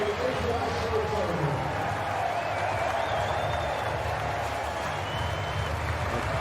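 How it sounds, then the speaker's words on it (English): Large cricket crowd at an England v Pakistan one-day international, a steady roar of cheering and applause throughout, with a commentator talking over it. "The crowd are going off"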